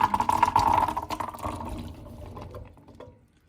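Canned chickpeas pour and rattle into a metal strainer as the liquid drains off, a loud, dense wet clatter that gradually thins and fades over a few seconds.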